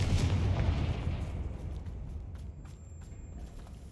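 A Confringo spell blast from the Hogwarts Legacy video game: a booming explosion that rumbles loudly at first, then fades into a lingering, crackling tail with faint small pops.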